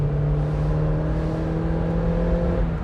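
A Mazda MX-5 fitted with a Cobalt exhaust holds a steady, fairly loud engine note with a throaty hum, running close and continuous with no voices.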